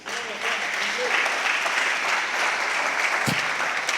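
Sustained applause from an audience, a steady even roar of clapping with a brief thump near the end.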